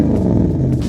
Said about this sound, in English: A 2008 Cayenne S, naturally aspirated V8. Absolutely sounds mean.